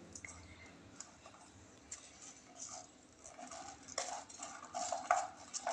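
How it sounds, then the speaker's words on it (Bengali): Hands mixing puffed rice (muri) in a bowl make soft, faint rustling and crunching, with occasional light ticks and scrapes. The sound grows a little louder toward the end, and quiet voices talk throughout. "মুড়িটা ভালো করে মেখে দিচ্ছি।"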